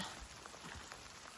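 Rain falls steadily on the Appalachian Trail, a soft continuous patter with scattered drops landing nearby, moderately quiet and without voices.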